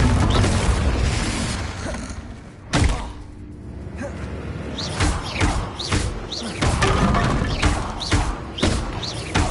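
Confringo blasting spells in Hogwarts Legacy, a series of loud booming impacts and thuds, one heavy blast near the three-second mark followed by several sharper repeated hits, close and punchy over a dense game soundscape.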